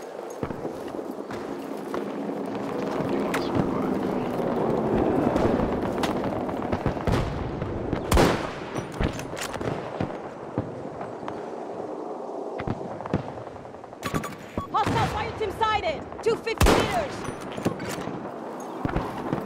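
Scattered gunshots and sharp cracks in Battlefield 2042 on the Stranded map, some near and loud, others distant, over a rumbling battlefield background with footsteps and a voice speaking at times.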